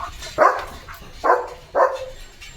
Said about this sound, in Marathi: बैलगाडीला भुंकतोय